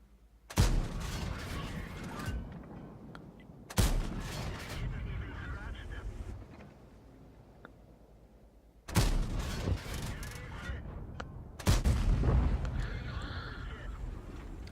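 Heavy tank cannon shots in World of Tanks on the Live Oaks map, four loud booming blasts spread apart with long rumbling decays, while someone talks between and over them.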